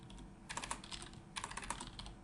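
Quick bursts of computer keyboard typing in two clusters, close and fairly faint over a low steady hum, with no voices.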